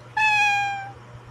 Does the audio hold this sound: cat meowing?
yes